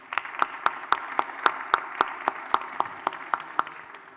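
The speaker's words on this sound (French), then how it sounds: "On peut les applaudir." Audience applause closing a French electronics and embedded-systems R&D event, with a few spaced, steady claps standing out over a thin, sustained patter from a small room.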